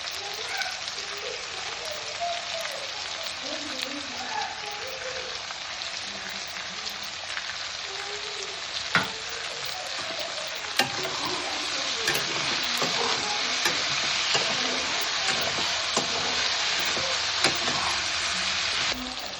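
Tomato and salt frying in a pan for avalakki, a steady loud sizzle and crackle with occasional stirring scrapes and knocks, getting slightly louder toward the end.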